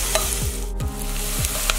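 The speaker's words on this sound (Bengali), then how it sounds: "গোল্ডেন ব্রাউন অবধি আমি একটু এটা ভেজে নেব" Onions frying in a pan toward golden brown are stirred with a utensil, giving a close, soft sizzle broken by several rhythmic scraping strokes, with no voices.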